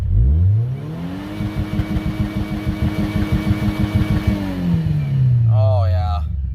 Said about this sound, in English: the last time the Ranger is going to drive into my shop as a 4-cylinder.